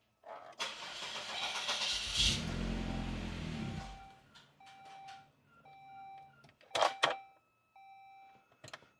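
A 2003 Saab 9-3 engine cranks briefly and catches, revving loudly before settling into a quieter idle, with chimes and warning beeps sounding from the dashboard afterward.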